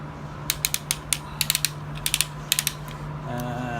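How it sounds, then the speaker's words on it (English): Tight ratcheting joints of a Transformers Legends LG-42 Godbomber toy figure being posed, giving quick clusters of crisp plastic clicks with short pauses between them. "he's got some really tight, ratchety joints here"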